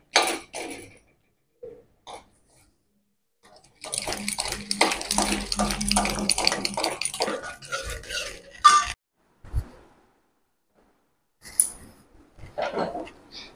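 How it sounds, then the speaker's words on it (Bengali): Boiled raw mango being mashed with a dal masher in a pot while making mango leather: a dense burst of wet, squelching clatter lasting about five seconds, with scattered short knocks before and after. "এবার আমি ডাল কাটাটা দিয়ে আমটা একটু ভালো করে ঘেটে নেব।"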